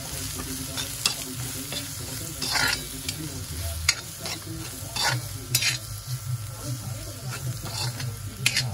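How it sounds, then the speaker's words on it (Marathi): Garam masala powder being stirred and roasted in a pan while making paneer bhurji: steady frying sizzle with repeated scraping strokes of a spoon against the pan, close and continuous throughout. "आणि हे गरम मसाला पावडर जरा परतून घे. जरा हा मसाला व्यवस्थित भाजून घ्यायचा, परतून घ्यायचा."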